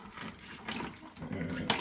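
Water gurgles and splashes in bursts as a hand bulb pump is squeezed to siphon water from a toilet into a bucket, close and fairly quiet with no voices.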